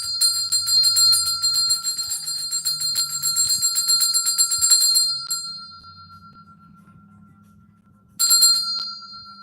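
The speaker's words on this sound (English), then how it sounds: "I'm here to ring the bell, so we gonna ring the bell and get some clear energy." A hand bell rings brightly and repeatedly up close for about five seconds, fades out, then is struck again near the end, with no talking.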